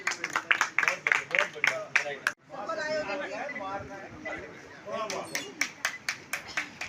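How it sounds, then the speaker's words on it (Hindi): An audience at a press club closing ceremony for a children's summer camp claps for the club president, clear sharp rhythmic claps at the start and end with a stretch of talking and chatter between. "तो एक हमारे अध्यक्ष के लिए तालियां जोरदार।"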